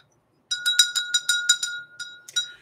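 A small inexpensive bell from a dollar store rings in a quick series of about ten bright metallic strikes, clear and close, with shimmering high overtones and no talking.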